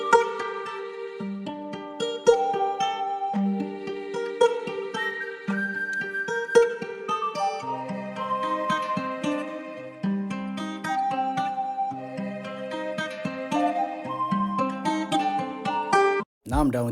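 Beat melody of layered piano, choir pads and guitar playing a steady melodic line, continuous and fairly loud with no talking, cutting off abruptly near the end.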